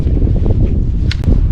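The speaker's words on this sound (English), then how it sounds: "It's windy as crap." Strong wind blowing outdoors at a cold outdoor shooting spot, a steady low roar buffeting the microphone, with a couple of brief clicks near the end.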